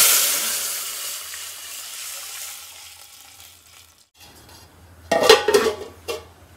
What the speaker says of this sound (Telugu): అందులోకి వాటర్ని యాడ్ చేసుకో